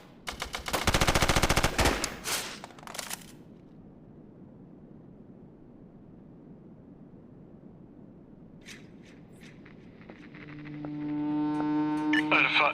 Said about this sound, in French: Bravo utilisera ses tirs de suppression pour les maintenir en position.